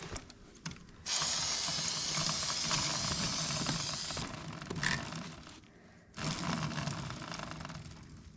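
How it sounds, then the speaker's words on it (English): Aerosol hiss of WD-40 being sprayed onto a Honda motorcycle chain, loud and close. A long spray runs about five seconds, then after a short pause a second burst follows, with light mechanical clicks mixed in. "we're gonna get some WD-40 really quick and lubricate the chain"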